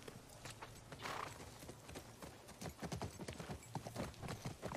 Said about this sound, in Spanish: tengo que pillar el caballo